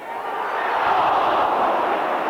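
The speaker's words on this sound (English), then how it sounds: "Well, the crowd noise told you everything there." Stadium crowd at an Everton v Liverpool football match in extra time, a broad sustained roar that swells in the middle and holds loud to the end.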